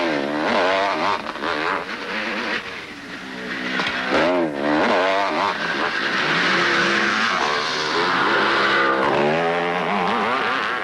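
Racing motorcycles roar around a track at full throttle, their engines rising and falling in dense, continuous overlapping whines as they pass close by, with no talk.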